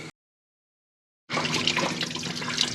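Water drains from a Volvo 940 Turbo during manifold repair work, a steady, close splashing trickle that starts after a short silence.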